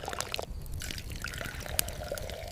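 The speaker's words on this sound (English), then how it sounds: "More wine was poured slowly upon the earth." Wine poured slowly onto the ground at a night-time Roman crossroads ritual for Hecate, a soft, quiet trickling and splashing that runs steadily for a few seconds with faint drips.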